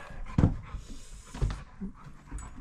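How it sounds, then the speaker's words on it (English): Panting from a husky dog, close by, with quick breathy puffs and a couple of louder huffs, heard alone. "I'm babysitting someone's husky"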